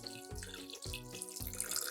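Water pours and splashes into an electric rice cooker pot holding leftover scorched rice crust, a steady close running-water sound with faint drips and no voices.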